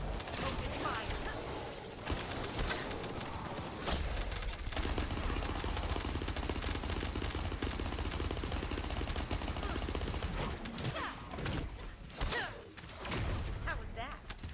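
Dense, continuous automatic gunfire rattles during a shootout in the game The First Descendant. It is loud and sustained for most of the stretch, then breaks into choppier bursts near the end.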